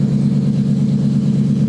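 A rebuilt Range Rover SVR engine idles close by with a steady, deep rumbling hum, even and unwavering throughout, with no talk over it.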